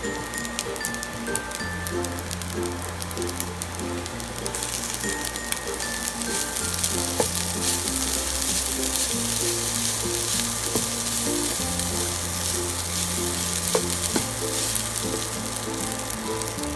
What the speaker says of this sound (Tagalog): Hahaluin na lang natin ito.